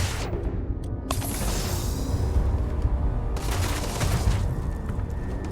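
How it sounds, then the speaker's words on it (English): Sustained gunfire from a Starfield firefight, dense bursts of shots layered over a loud, busy mix with booming low end and sharp cracks throughout, no voice. "I didn't even realize I was getting shot."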